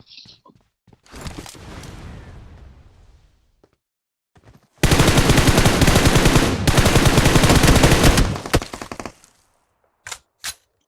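Shotgun fire in a battle royale video game: a loud, dense run of rapid blasts lasting several seconds, with a rougher stretch of gunfire before it and a few sharp isolated shots at the end.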